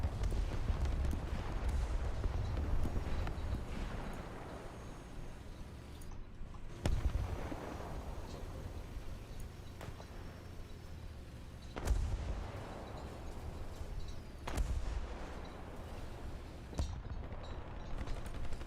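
Gunfire in the tank game War Thunder: a few heavy, booming shots at irregular intervals, each a sharp loud blast that decays over a steady low engine rumble.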